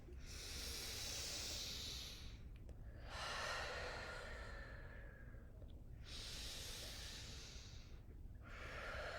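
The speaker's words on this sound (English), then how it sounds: "Let's all do it together one more time." Slow, deep belly breathing by a small group, long airy inhales and exhales alternating in a steady rhythm with brief pauses between, close and fairly soft, no talk.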